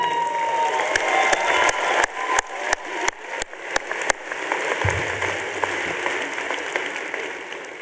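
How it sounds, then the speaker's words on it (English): Graduation audience applause at a university engineering commencement, a broad crowd clapping with a run of sharp loud claps near the microphone, then the applause settles into a softer steady wash. "So a big round of applause to them."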